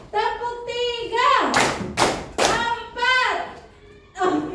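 Three sharp group claps from a classroom of children keep a counted rhythm during a teacher's lesson, each loud burst roughly half a second apart, with voices chanting and talking around them.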